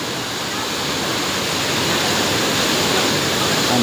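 Water pours down at Mantayupan Falls in a loud, dense, unbroken roar that fills the whole clip and stays steady from start to finish.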